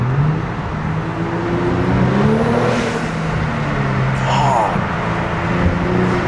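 Modified Kia Stinger GT2 engine revving inside a tunnel, a steady loud drone with rising and falling engine tones that echo off the walls, while someone talks over it throughout.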